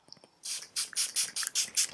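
A rapid series of close facial glow mist spray bursts, about six quick pumps in a steady rhythm, with no talking.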